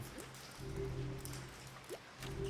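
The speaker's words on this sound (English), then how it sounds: "The water dripping in here." Quiet water dripping ambience inside a cave-like space in the video game Tails of Iron, faint scattered drips over a low hum and soft background wash.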